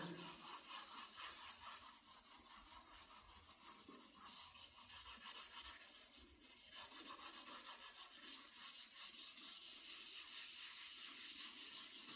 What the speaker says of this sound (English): Got to really scrub it good